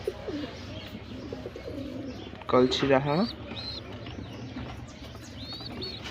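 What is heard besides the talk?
pigeons cooing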